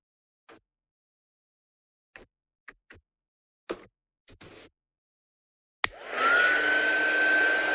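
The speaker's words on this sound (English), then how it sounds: "then we'll get our heat gun" A few scattered clicks and taps, then a heat gun switches on with a sharp snap and blows a loud, steady whooshing roar over embossing powder, close up and without speech.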